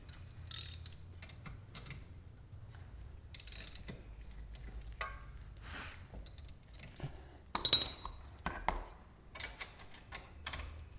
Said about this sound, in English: go ahead and just take your tools and tighten everything back down